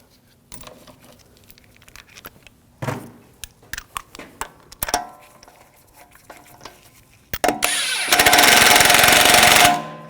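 Lug bolts on an Audi S4 wheel get snugged down with scattered metallic clicks and taps, followed by a loud continuous ratcheting or whirring burst of a couple of seconds near the end.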